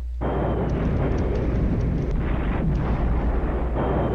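Mortar and artillery shells bursting in a war strategy video game, a dense, continuous rumble of booms and blasts filling the whole stretch, loud and steady, with no voices.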